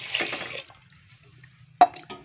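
Water pours into a pot holding moong dal, salt, red chilli powder and garam masala, a short splashy gush followed by quiet, then a sharp second splash and trickle near the end.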